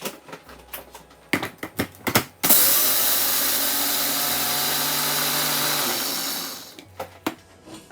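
A blender grinds gluten-free bread into breadcrumbs in one loud, steady roar lasting about four seconds, framed by clattering knocks of handling before and after.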